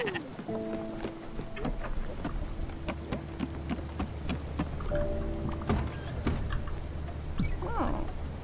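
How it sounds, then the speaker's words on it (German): Steady rain in the video game Spiritfarer, a continuous wash of patter with occasional louder drops, heard alongside soft tonal game music and faint background sounds. "Oh, dieser Regen, hört er denn nie auf?"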